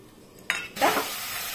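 Milk-soaked chicken fries with spices in a pan for butter chicken, giving a brief close sizzle with a couple of sharp stirring clatters.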